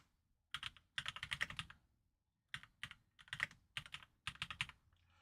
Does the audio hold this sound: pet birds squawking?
no